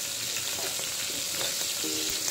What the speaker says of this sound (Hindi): इसको हम अच्छे से फ्राई करेंगे।